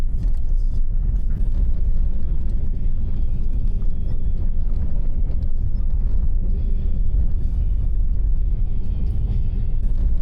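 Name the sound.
car driving through the Turkmenistan desert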